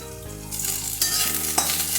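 Bitter gourd pieces frying in oil with turmeric in a pan, a short burst of close sizzling with a stirring scrape partway through.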